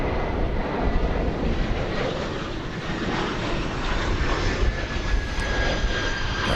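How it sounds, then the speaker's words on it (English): American Boeing 777-200 airliner taking off from runway 18 left at DFW Airport, bound for Narita, a loud, steady broadband engine roar close by with wind noise. "777-200 going to Narita Airport in Tokyo. Quick takeoff"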